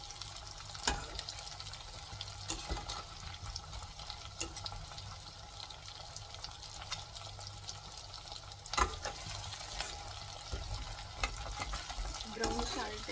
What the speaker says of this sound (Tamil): ஓகே, ஃப்ரை ஆகிட்டு இருக்கு.